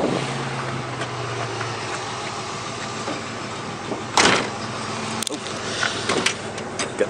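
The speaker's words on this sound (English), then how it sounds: "so I'll fire this up. You can kind of hear the exhaust." A V8 engine with a Flowmaster exhaust rumbles steadily at idle with a deep exhaust note, a couple of sharp mechanical clunks breaking in partway through.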